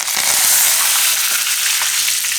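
Sesame and cumin seeds sizzling loudly in hot oil over a low flame, a dense, steady crackle and spatter filling the whole short stretch with no talk.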